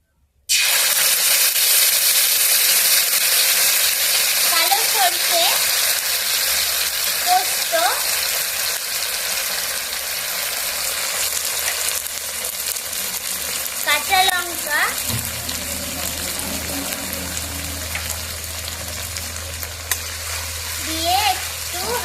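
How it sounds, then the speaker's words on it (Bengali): Mustard paste fries in hot oil in a wok for a mustard hilsa dish, giving a loud, continuous sizzle and hiss with occasional stirring scrapes running the whole way through. "এখন আমি কড়াই তেল দিয়েছি এখন আমি সরষেটা দিয়ে দেবো"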